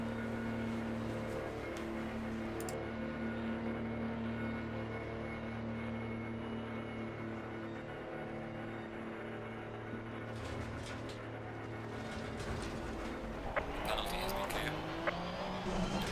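A Porsche GT3 race car in Assetto Corsa Competizione creeps slowly through the Zolder pit lane on a drive-through penalty, its engine a steady, even low drone that stays constant before rising and revving near the end.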